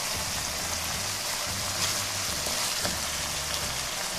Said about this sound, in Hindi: अब मैं इसके अंदर बिल्कुल थोड़ा सा सिरका डाल रही हूँ, बिल्कुल आधा चम्मच के करीब